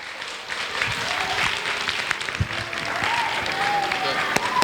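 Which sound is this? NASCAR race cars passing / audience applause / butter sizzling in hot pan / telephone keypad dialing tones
audience applause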